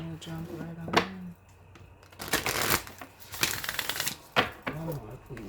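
Cards are riffle-shuffled up close in repeated rustling bursts and slaps, while a voice speaks softly between the shuffles.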